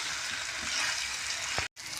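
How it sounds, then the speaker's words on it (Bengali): Chicken biryani masala frying in a pot, a close, steady sizzle with a soft stirring scrape before a brief cut to silence. "এবার এটা আমি নাড়বো কিছুক্ষণ ধরে।"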